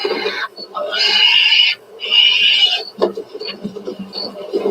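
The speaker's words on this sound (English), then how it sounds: "Poor pig." A pig squeals in three shrill, loud bursts close by, followed by someone speaking over scattered rustling.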